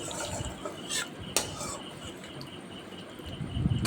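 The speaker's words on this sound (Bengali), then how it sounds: "হিংটা এবার তেলের উপরে আমি একটু নেড়ে নিচ্ছি" Asafoetida being stirred as it fries in hot oil in a pan for a vegetarian potato dish: a steady faint sizzling hiss with a few light spoon clicks and scrapes.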